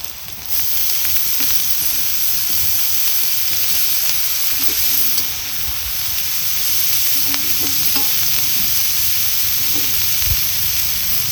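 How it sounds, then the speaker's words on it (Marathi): Chopped coriander bhaji fries in a spiced masala and is stirred in the pan, giving a loud, steady sizzling hiss with occasional soft scraping from the stirring and no talk. "आता मस्त अशी ही भाजी आपल्याला हलवून घ्यायची"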